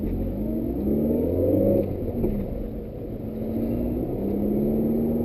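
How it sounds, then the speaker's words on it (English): A 2005 Suzuki Ignis Sport with its 1.5-litre M15A engine pulls onto a highway, a steady in-cabin engine drone rising in pitch under acceleration, close and continuous with road rumble beneath. "Now we're about to enter the highway, we can rev her a bit."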